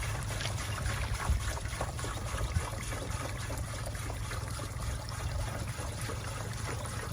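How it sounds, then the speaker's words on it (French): Water pours steadily into a sprayer tank with a continuous trickling splash over a low rumble, fairly close and moderately quiet, with no talk. "c'est de l'eau simplement qu'on est en train d'ajouter pour montrer comment ça fonctionne"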